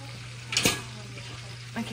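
Food cooking in a pan being stirred in a home kitchen: a brief scraping stir burst over a quiet background hum, with a faint second scrape near the end.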